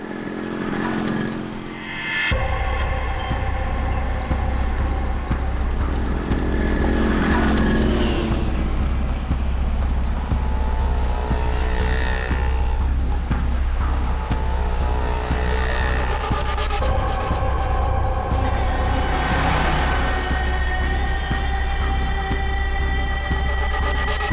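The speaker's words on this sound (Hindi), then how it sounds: "वो आपकी गाड़ी की तरफ आ रहा है सर।" A car approaches at a night-time haunted fair, its engine a loud, steady drone that holds for over twenty seconds after a brief quieter moment at the start, with faint background noise underneath.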